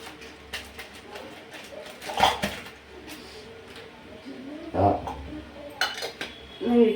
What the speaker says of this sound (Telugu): తొమ్మిది పెట్టిన గిన్నెలన్నీ ఇందులో మనం బయటకు సర్దుకోవాలి